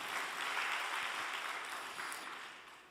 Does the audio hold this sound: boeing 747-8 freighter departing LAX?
no